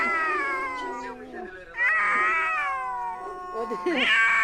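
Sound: cat meowing

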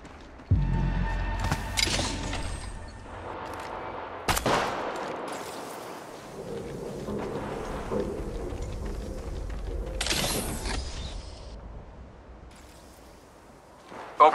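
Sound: gunfire in Apex Legends Mobile video game

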